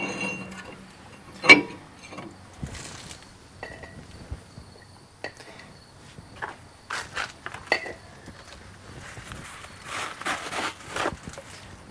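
A new front brake rotor goes onto a 2001 Ford F150, with sparse metallic clinks and knocks, one louder clank early, then clusters of scraping and tapping against a quiet background.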